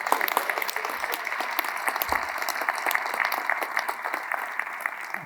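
Audience at a ribbon-cutting ceremony for a new manufacturing site clapping steadily, a moderate crowd of many hands with sharp individual claps audible through the wash, lasting several seconds without speech.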